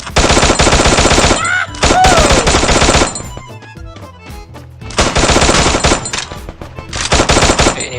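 Loud bursts of automatic gunfire in a video game, long rapid volleys broken by short pauses and scattered single shots, close and dominant with no talk.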